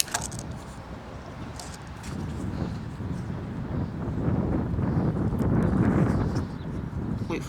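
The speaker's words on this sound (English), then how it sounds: "Wait for the wind to stop." Steady wind blows across the microphone outdoors on a windy day, a broad rushing roar that swells louder toward the middle and end of the stretch, with no speech over it.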